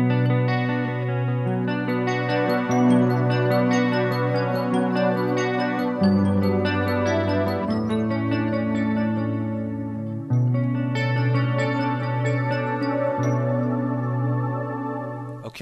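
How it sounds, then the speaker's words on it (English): A Roland GR-55 guitar synth blends a keyboard bell pad under guitar notes, giving sustained shimmering chords with chorus-like effects that hold steady and shift pitch every few seconds. "I can actually bring in a keyboard pad, like a bell sound."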